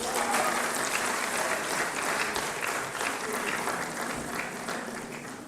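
Audience applause at a university World Environment Day event in Okada, a dense sustained wash of many hands clapping at once, loud and continuous for several seconds before easing slightly.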